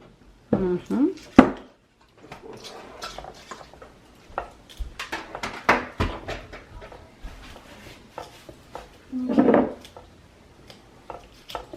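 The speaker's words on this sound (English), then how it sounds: "we just gotta mix it all so it's like not in little clumps" Cupcake batter being mixed in a bowl with a spatula, giving soft irregular scrapes and thumps close by, with a few louder knocks against the bowl and quiet stretches between them.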